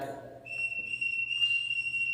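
A single long, shrill blast on a whistle blown to summon people, steady and fairly close, following a short burst of quieter sound.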